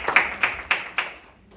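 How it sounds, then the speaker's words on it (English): A few claps, about four distinct hand claps spaced roughly a quarter second apart, fading out, at a mayor's council meeting after thanks for a ramp with safety lights. "Round of applause."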